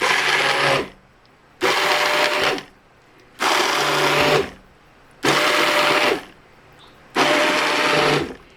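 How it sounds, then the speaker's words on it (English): Immersion blender pulsing through tomato jam, five loud whirring bursts of about a second each separated by short silences, close and steady, with no talking. "we are going to use the immersion blender now, and I'm just gonna pulse this through."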